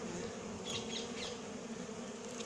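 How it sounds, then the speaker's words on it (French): Bees swarm around a natural hive, producing a dense, continuous buzzing close by that holds steady throughout with no voices. "Oh là là, de plus en plus d'abeilles."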